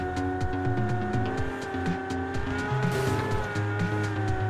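Lamborghini engine droning steadily in the video game PUBG while the tires squeal and skid in short bursts, close and continuous, with no voices over it.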